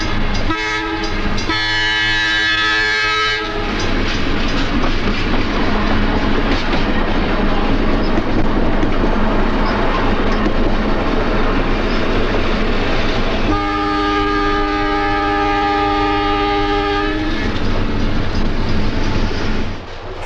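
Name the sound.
eastbound two-car interurban electric train rounding a curve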